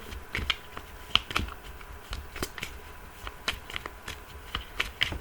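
Tarot cards being cut and shuffled by hand, a close series of crisp snapping flicks and soft riffles in an irregular rhythm, alone without talk.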